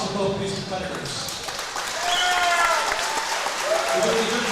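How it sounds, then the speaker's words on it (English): An audience at a cage grappling event claps and cheers steadily, a loud wash of applause with faint whistles rising over it. "big round of applause for both of these competitors"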